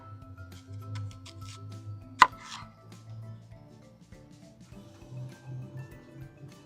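Half an onion being chopped with a knife, a steady run of close, fairly quiet board taps with one sharp louder knock partway through, over a low background hum.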